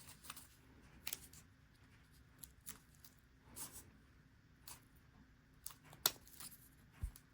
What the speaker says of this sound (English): So I'm just going to take a pair of scissors and cut around the foam where I want it to be trimmed.